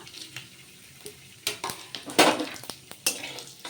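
Dried chillies, whole cumin and a bay leaf are stirred in hot oil left from frying pointed gourd, giving a soft sizzle under sharp, irregular scrapes and clinks of a spoon against the pan.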